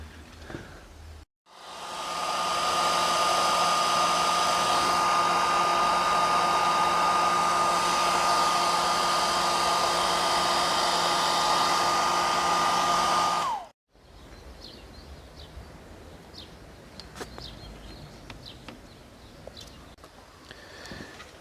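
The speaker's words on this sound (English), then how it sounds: "give this a little warm with the hairdryer, so these will come out easy" A hair dryer runs loudly for about twelve seconds with a steady whine, warming a car's washer jets, then switches off, leaving quiet room noise and faint clicks.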